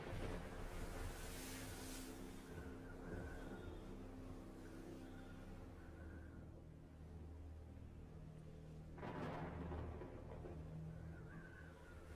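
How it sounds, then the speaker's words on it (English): Heavy ocean waves surge and crash in a video game after a ship is lost, a continuous roaring wash with a louder breaking swell partway through, no voices. "And man, oh man, are those waves crazy."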